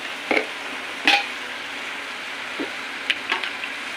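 Ginger paste stirred in a frying pan after turmeric goes in: a soft background sizzle broken by a few short scrapes and clinks of a spoon against the pan.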